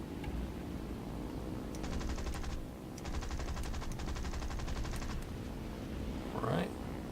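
The Gladiator Mk II fighter in War Thunder fires its machine guns in two long rattling bursts over a steady engine drone. A short whistling sweep follows near the end.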